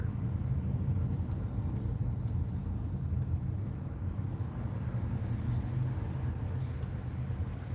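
A small club of loud motorcycles rides past an Elks parking lot on the way to a Thunder in the Valley run, a low continuous engine rumble at moderate distance with no talk.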